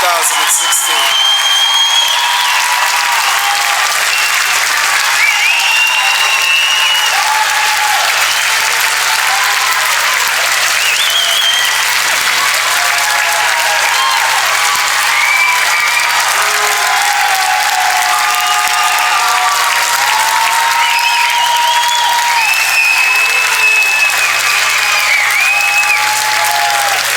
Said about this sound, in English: Let's have a round of applause for the graduating class of 2016.